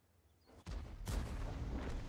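In the World of Tanks video game, a tank cannon fires twice in quick succession, each shot a sudden, deep boom followed by a low rumbling tail at moderate volume.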